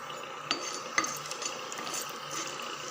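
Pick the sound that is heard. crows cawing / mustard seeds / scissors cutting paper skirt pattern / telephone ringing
mustard seeds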